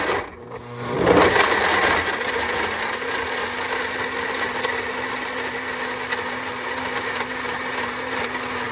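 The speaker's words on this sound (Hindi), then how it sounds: "उसमें 4 कप पानी के साथ अब वो ब्लेंड करेंगे।" A kitchen mixer grinder blends fresh coconut pieces with four cups of water in a jar, starting with a sharp surge and then whirring steadily and loudly to the end.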